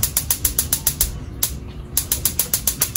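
Gas stove burner igniter in a home kitchen clicking repeatedly and rapidly in a steady rhythm, close and fairly loud, with a short pause in the middle before the sharp ticking resumes, no voices heard.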